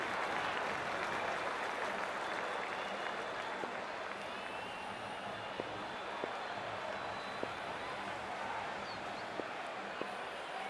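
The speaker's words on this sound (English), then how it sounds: "already the crowd is up and about" Cricket stadium crowd at an IPL match between Punjab Kings and Rajasthan Royals, a steady roar of cheering and applause that stays dense and broad throughout, with a few sharp claps or knocks standing out.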